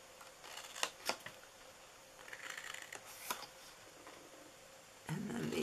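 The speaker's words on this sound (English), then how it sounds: "And we're going to cut into these." Scissors snip through paper for a handmade Mother's Day gift box, giving a few quiet, sparse cuts with soft handling noise between them and a louder rustle at the end.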